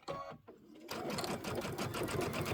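A sewing machine stitches a quilt section for a Kimberbell Cup of Cheer project, its needle running in a rapid, steady mechanical chatter after a brief pause at the start, close and continuous.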